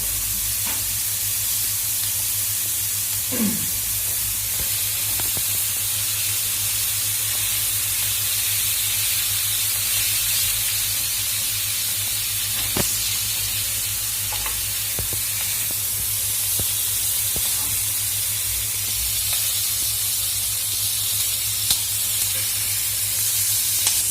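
Peppers fry in a pan alongside beef külbastı, giving a steady, loud hissing sizzle that runs unbroken throughout with only faint clinks and no talk.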